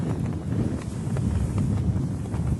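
Steady, blustery wind buffets the microphone during outdoor golf chip-shot practice, a continuous low rumble with gusty swells and no voices.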